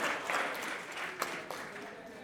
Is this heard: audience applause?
yes